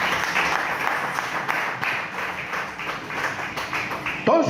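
Applause breaks out during a Spanish-language church worship service after a call to honor God, a steady dense clapping from the congregation lasting throughout, with a brief louder sound at the very end.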